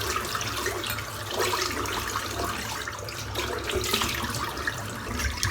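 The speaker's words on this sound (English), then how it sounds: "I'm going to wash my face again, just wet my face again" Tap water runs into a bathroom sink while a face is splashed and wetted, a steady nearby stream with soft shifting splashes and no talking.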